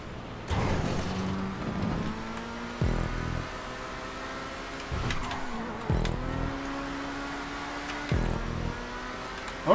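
An Emerus supercar engine in GTA 5 Online drives steadily with a droning tone, revving up and dropping back at each gear shift, close and continuous.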